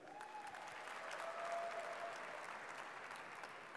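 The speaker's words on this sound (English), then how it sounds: "A big round of applause to all of you guys" Developers in a keynote hall applaud, a steady, even roar of many hands clapping that swells slightly in the middle and continues throughout.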